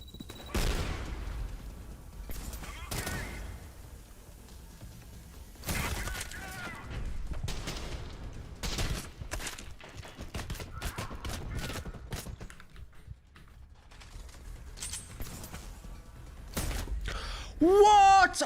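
Gunfire in a shooter video game comes as scattered sharp bursts and single shots, some near and loud, others fainter, spread through a quieter stretch with speech-like sounds in the background.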